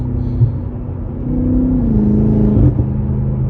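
BMW M5 Competition engine revving while driving on back roads, a loud, deep, close rumble that swells and holds a rising, then falling, drone before easing off.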